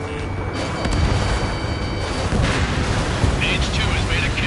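In Ace Combat, a missile launch and explosions rumble loudly and continuously, a heavy roar with bursts of booms, while radio chatter runs underneath.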